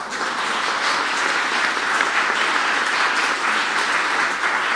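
A crowd at a care workers' convening claps in sustained, even applause, dense and fairly loud throughout without voices.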